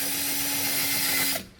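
A power drill marks a hole in the body of a 1966 Ford Fairlane during a seatbelt installation, giving one steady, loud whirring run of about a second and a half before it cuts off abruptly.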